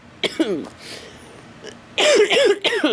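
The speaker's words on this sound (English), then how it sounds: "here I am coughing today" Someone coughs and clears their throat close up, a couple of short harsh bursts near the start and a heavier cluster later.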